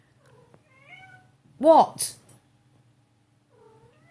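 A cat meows twice in quick succession, close and fairly loud, the second call shorter, set between quiet stretches and a man's brief spoken word.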